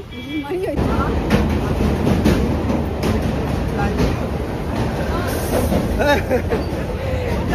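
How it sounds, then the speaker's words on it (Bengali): A train on the Sealdah route rumbles and rattles continuously from inside the carriage, a dense running noise with voices talking over it. "আমরা এখন ট্রেনে উঠে পড়েছি"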